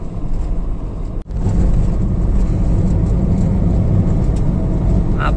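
A Ford EcoSport TDI diesel with a fresh timing belt drones steadily while driving and picking up speed on a rough road, a loud low rumble broken by one short dropout early on.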